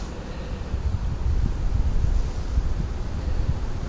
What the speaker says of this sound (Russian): Сильный встречный ветер и течение.